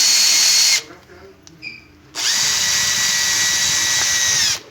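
A power drill with a 964 bit drills into an old, clogged Canon printer ink cartridge in two loud, steady whining runs, the second longer, separated by a brief pause with faint handling noises.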